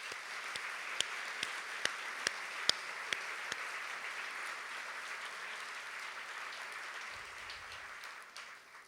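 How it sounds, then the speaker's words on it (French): Steady audience applause fills a graduation ceremony for a communication school's 2023 class, a few sharp individual claps standing out early before the clapping thins slightly toward the end. "je vous propose qu'on vous applaudisse déjà pour votre participation à l'école de communication"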